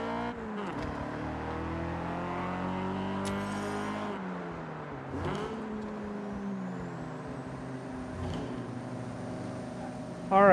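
A car engine in the Forza Horizon racing game revs up and down in repeated rising and falling sweeps, steady and fairly loud, with a whine building toward the end.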